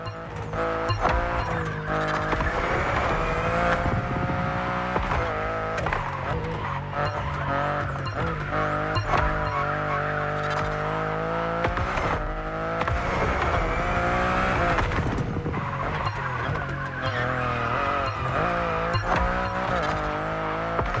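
BMW i8 sports car in The Crew Motorfest, its engine droning and shifting pitch steadily and loudly throughout, with tire squeal and skidding mixed in and a music-like tonal bed underneath.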